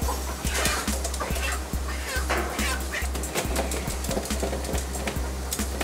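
Chickens on an organic free-range chicken farm, many birds clucking and squawking at close range in an irregular, busy chorus over a steady low hum, with voices talking underneath.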